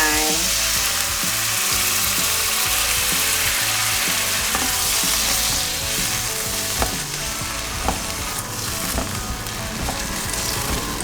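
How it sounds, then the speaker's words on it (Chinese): Carrots, luffa and mushrooms stir-frying in a pan, a loud continuous sizzle with occasional spatula scrapes and taps throughout. "大概略炒一下，把水加进来。"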